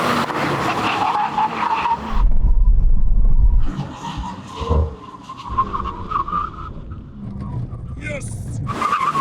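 Audi RS5 and BMW M3 accelerating hard in a drag race, with loud engine roar and tire skid building then easing, punctuated by further revving passes, while people talk over it.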